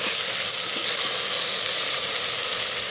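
Onions, tomato and chopped cilantro frying in an Instant Pot give a loud, continuous hissing sizzle that holds steady from start to finish, with no talking.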